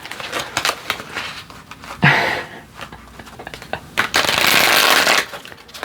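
A deck of tarot or oracle cards is shuffled for a spiritual reading: a close, crisp run of riffling and papery flutters comes in bursts, with a longer, dense riffle near the end.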